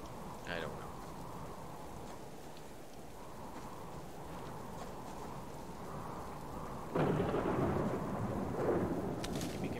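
A thunderstorm with rain in the video game Subsistence: steady rain hisses throughout until a loud, close crack of thunder bursts in and rolls on heavily toward the end.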